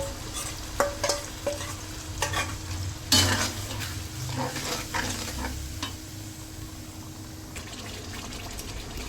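Spice paste for a wedding-style chicken roast sautéing in a pan, a steady soft sizzle with occasional stirring scrapes and clinks, close and fairly quiet with no talk.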